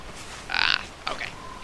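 A dragon roar in the fantasy game Dragon Age: Inquisition, heard as two short, distant growling bursts over faint ambient noise with no talking.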